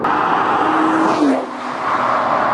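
A 2013 Nissan GT-R drives hard with a loud, steady engine roar and tire rush. There is a brief dip and shift in pitch midway, then it keeps pulling with no pause.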